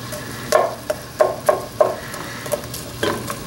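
Chopped onions and garlic fry in a pan with a soft sizzle. A utensil stirs them in short scraping bursts about every half second, close and moderately loud.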